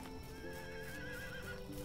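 Horses in the Medieval Dynasty video game give a long, clear whinny over steady clip-clopping hooves and a busy game ambience, with no talk.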